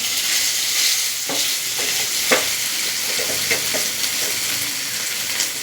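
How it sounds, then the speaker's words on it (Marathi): Boiled, hand-mashed potatoes with green chillies sizzle in a hot pan and are stirred and scraped now and then. The frying hiss is continuous and close, and several scrapes of the spatula stand out. No one speaks. "चवीपुरतं मीठ घालते आणि परतून घेते"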